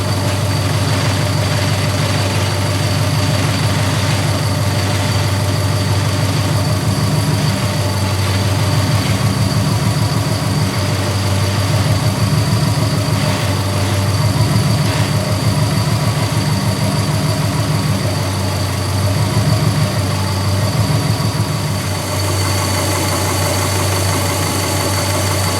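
Subaru engine idling with a newly replaced power steering pump, a steady, close, low rumbling hum with even vibration that continues unchanged throughout, no talk.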